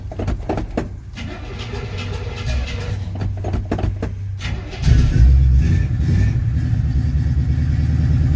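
A carburetted car with its choke on cranks and then catches on a cold start in 37-degree weather, the engine rising to a loud, steady idle close by after several seconds of cranking.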